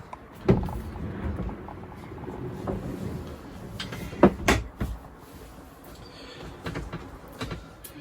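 A shower door in a 2021 Pilote Pacific motorhome rolls along its track with knocks and clunks, a couple of sharp bumps as it moves and settles, close by.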